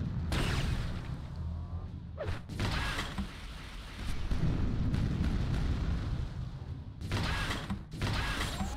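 Rockets blast in Quake II, a continuous roar of loud explosions and mechanical rumble with brief gaps, dense and close, no talk.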